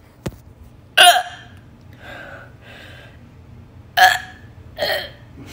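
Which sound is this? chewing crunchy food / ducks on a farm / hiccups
hiccups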